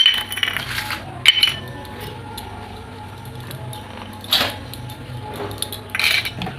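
Four small bowls clink together in a kitchen, with a few sharp light knocks spread over a quiet background of soft handling noise.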